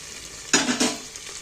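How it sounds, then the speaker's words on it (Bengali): Chopped tomatoes hit a hot pan and are stirred, giving two quick bursts of sizzle and scraping over a faint background fry, close and brief. "কাটা টমেটোগুলো তুলে দিচ্ছি"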